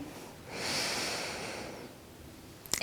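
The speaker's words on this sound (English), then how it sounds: "Breathe in" A long, deep breath drawn slowly through the nose during a home yoga session, rising and fading over more than a second, close and alone, with a sharp click at the very end.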